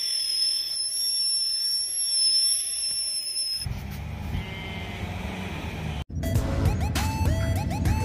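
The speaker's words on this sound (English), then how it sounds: "Whistle. Hot water's ready." A kettle at a Lake District campsite whistles with a shrill, steady high tone for several seconds as water boils, then stops abruptly. Rumbling and clattering noises follow.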